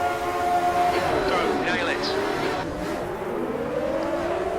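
1974 Formula 1 race cars from a racing video game launch off the start of the US Grand Prix, engines roaring and rising in pitch as the pack accelerates together, loud and close throughout.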